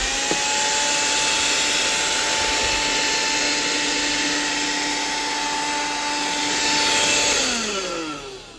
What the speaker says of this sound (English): I am going to use my trusty little dust buster.